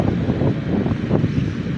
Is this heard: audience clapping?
no